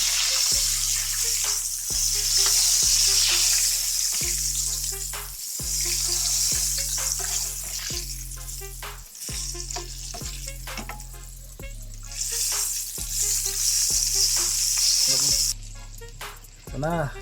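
Calamari sizzle and crackle loudly in hot frying oil, a dense continuous hiss with a steady hum underneath, as pieces are dropped into the pan for a second batch; the frying fades out near the end.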